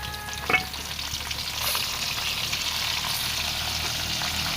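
Salt water poured into frying potato chips in hot oil, a sharp splash and crackle at the start that settles into a loud, steady sizzling hiss, close, with no speech.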